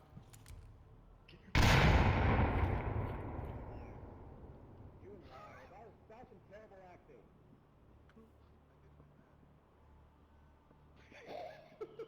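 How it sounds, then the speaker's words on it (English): A grenade blast erupts in the Onward VR shooter, a loud boom that rolls off into a long fading rumble, followed by quieter scattered shots and voice chatter near the end. "All slows down in the north as nades get exchanged back and forth"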